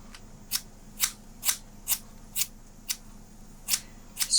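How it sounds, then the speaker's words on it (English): Thinning shears cutting through hair, about nine crisp metallic snips in a fairly even rhythm, close and clear against a quiet background. "I feel like I need to go through the top section of my hair with thinning shears"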